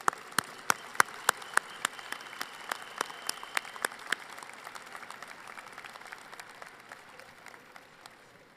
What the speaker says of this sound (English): Candidates, how about a round of applause for your support teams?